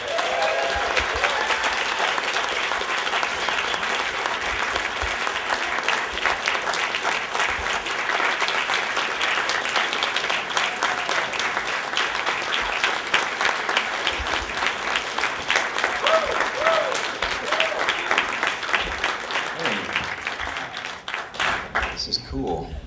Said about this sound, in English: So give him a big warm round of applause